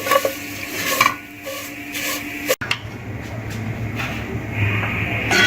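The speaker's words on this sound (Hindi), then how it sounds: "सेवइयाँ हमारी थोड़ी सी ब्राउन हो रही हैं, अभी थोड़ी सी और करेंगे इनको" Vermicelli (seviyan) being stirred and browned in a pan for sheer khurma, scraping and rustling strokes of the spoon over a low frying hiss, close and moderately loud with a brief clatter midway.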